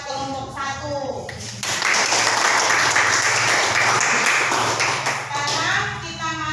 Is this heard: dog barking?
no